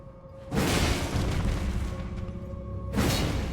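Two fire bomb blasts in Elden Ring, a sharp booming burst near the start and another about two and a half seconds later, each loud with a rumbling tail, over steady game ambience.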